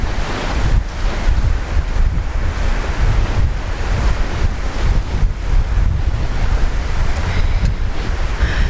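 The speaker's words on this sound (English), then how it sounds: "it's getting gusty again" Gusty wind at Brisbane Airport buffets the microphone in a steady, loud broadband roar with rising and falling surges throughout, no voices heard.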